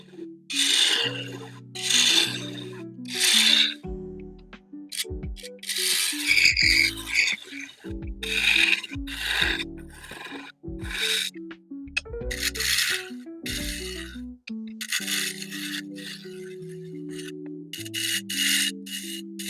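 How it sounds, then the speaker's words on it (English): A wood lathe tool cores out a scrap wood bowl with repeated rasping, scraping bursts of cutting, rhythmic and close, interspersed with brief pauses and hums. "I'm just gonna start coring it out."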